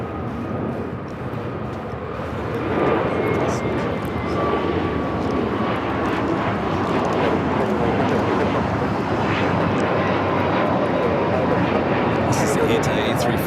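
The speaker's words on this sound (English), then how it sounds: "This is the ITA A350 coming in from Rome." An ITA Airways Airbus A350 arriving from Rome at Los Angeles LAX, heard as a steady, broad jet roar that swells after a few seconds and holds loud throughout, with people chatting faintly underneath.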